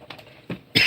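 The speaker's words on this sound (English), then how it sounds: "excuse me while I cough my guts up." A person coughs indoors: two short, muffled coughs, then a sharper, louder one at the end, close to the microphone.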